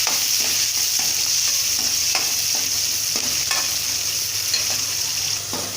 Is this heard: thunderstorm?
no